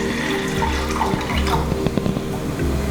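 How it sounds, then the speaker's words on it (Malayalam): Water poured into a cooking pot from a tap, a steady splashing stream with brief gurgles, close and fairly loud throughout. "നമ്മളൊരു പാത്രം വെച്ച് നമ്മളൊരു കപ്പോളം വെള്ളം ഒഴിക്കണം"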